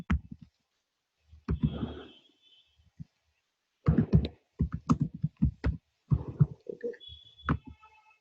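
Keys clatter on a computer keyboard in several short bursts of close, crisp tapping separated by quiet pauses, with no one talking.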